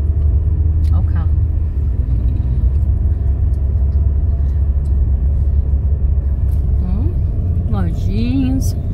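A car passes on a city street in the historic centre of Barbacena, its engine rumble steady and close throughout, with people talking nearby.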